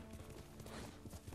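Horse hooves clip-clopping in Ghost of Tsushima, a quick, muffled rhythmic patter of steps over a dense, noisy game soundscape, fairly quiet and continuous.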